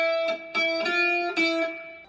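A guitar picks the second part of a riff, with four clear notes ringing and overlapping at a moderate, even pace, close and alone.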